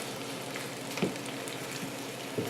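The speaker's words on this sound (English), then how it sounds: "Now that the oil is hot, we're ready to put our pepper slices into the saute pan." Pepper slices sizzle steadily in hot oil in a saute pan, a continuous close hiss with a couple of faint clicks, and no one speaking.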